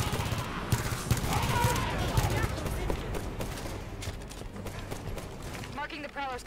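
Heavy weapon fire with strong recoil in the game Halo 5, a dense run of sharp bursts and blasts that carries through the whole stretch, with a voice talking over the shots.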